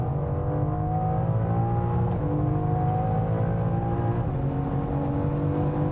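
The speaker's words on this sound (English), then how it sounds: "it has a full Akrapovič titanium exhaust, front to back, and it sounds absolutely glorious" A BMW M4 Bovensiepen Zagato with a full Akrapovič titanium exhaust revs steadily, its engine drone rising and falling in pitch, loud and close, with no voices over it.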